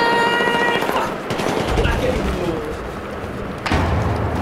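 Rapid, loud bursts of automatic gunfire and impacts from a shooting video game, with sharp thumps over a dense, noisy backdrop.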